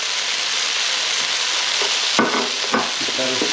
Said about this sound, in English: Keep that stirring.